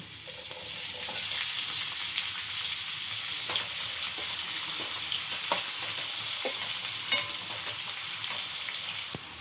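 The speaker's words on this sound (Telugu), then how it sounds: "అల్లం వెల్లుల్లి ముక్కలు, దీన్ని కలుపుకుందాం. ఇది ఫ్రై అయ్యేటప్పుడు ఉల్లిపాయ ముక్కలు యాడ్ చేసుకుందాం." Ginger and garlic pieces fry in hot oil in a pan for egg bhurji, giving a steady, loud, close sizzle with occasional spatula scrapes and stirring taps and no talking.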